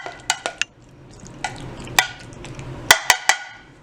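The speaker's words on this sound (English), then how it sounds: "And then stir it all up in here." Pasta with toppings stirred in a bowl, a series of sharp clinks and scrapes of a utensil against the bowl in irregular bursts, close and clear with no talk.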